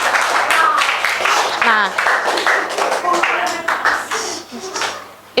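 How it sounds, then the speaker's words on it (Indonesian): Schoolchildren clap together in a classroom, quick uneven hand claps overlapping with a teacher's voice and children's chatter close by. "Tepuk tangan teman-teman"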